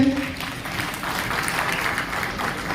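An audience at a business plan seminar applauds, a steady, even patter of many hands clapping that continues throughout without a clear start or end.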